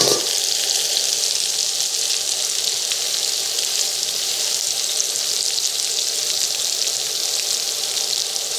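Par-cooked potatoes fry on an induction cooktop with a steady, loud broadband sizzle that holds evenly from start to finish, with no talk over it.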